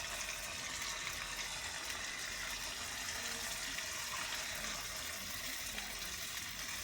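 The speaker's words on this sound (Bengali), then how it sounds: "তেলটা গরম হয়ে গেছে, এখন মিডিয়াম আছে বড়াগুলো ছাড়বো" Carrot, beetroot and tomato fritters (boras) frying in medium-hot oil, a steady even hiss and crackle of bubbling oil that holds level throughout, fairly close, with no talking.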